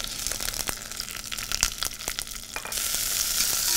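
Crayfish searing in hot olive oil in a pan for a vol-au-vent, a steady close sizzle and crackle with sharp pops throughout, growing into a louder, denser hiss toward the end.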